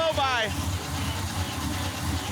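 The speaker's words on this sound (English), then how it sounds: "Engine might not be totally happy." A barn-find Pontiac Firebird engine with heavy blow-by idles rough, a low uneven rumble pulsing steadily up close, with a voice briefly over it at the start.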